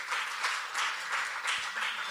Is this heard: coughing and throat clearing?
no